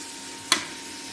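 Biryani masala and chilli powder fry in oil with a low, steady sizzle, broken once by a single sharp clack of a utensil against the pan.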